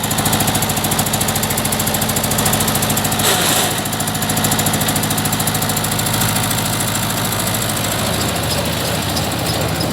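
A mobile rice mill with a three-way gearbox runs its engine hard, giving a loud, continuous knocking drone with a brief dip in the middle; no voices.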